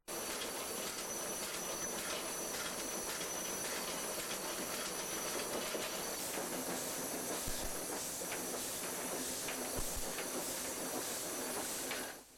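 Loud, constant rumble and hiss inside the cab of a Yugoslav-built steam tank locomotive working a train, with faint rhythmic clatter and occasional knocks over twelve seconds, no talking.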